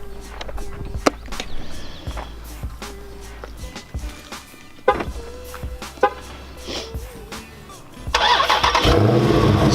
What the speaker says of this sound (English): So the car is gonna start